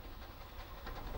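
A little LMS 1F steam locomotive hauling a top-and-tailed train, with a second engine pushing at the rear, gives a steady rolling rumble with faint rail clatter and hiss, close and continuous throughout.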